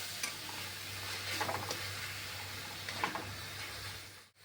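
Spices with coriander and mint leaves fry in a pan, giving a soft, steady sizzle close by. A few faint stirring scrapes sound over it, and nobody talks.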